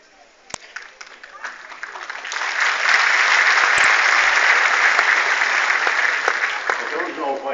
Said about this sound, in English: I don't know why you're clapping,